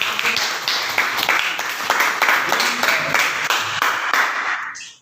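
Students in a classroom clap together for a classmate, a dense, close burst of hand claps that runs steadily for about five seconds before cutting off abruptly at the end.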